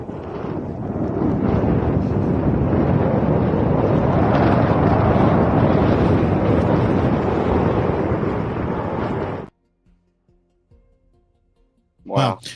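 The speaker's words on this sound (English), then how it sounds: "So it was pretty windy out there." Heavy wind roars across the microphone for about nine seconds, then cuts off abruptly into near silence, with a brief sound at the end.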